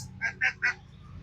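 Ducks on a farm give three quick, nasal quacks in a row, close and clear over a low background hum.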